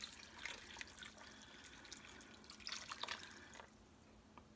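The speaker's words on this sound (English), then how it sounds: "I'm going to add 2 cups of water." Water pours and drips into a 6-quart crock pot of beef stew set on low, a light trickle with a few splashes, fairly faint and close, with no talk over it.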